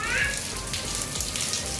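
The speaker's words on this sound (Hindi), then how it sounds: "बारिश स्टार्ट हो गई है" Rain falls in Karachi as a steady, close hiss of drops and splashing water, with voices faintly present.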